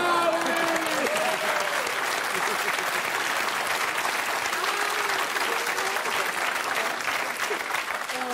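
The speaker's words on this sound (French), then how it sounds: "Laissez les gens applaudir, Alain Delon" A studio audience applauds Alain Delon's entrance on a French comedy show, sustained, full crowd clapping that holds at an even level throughout, with faint cheering or a voice calling out early on.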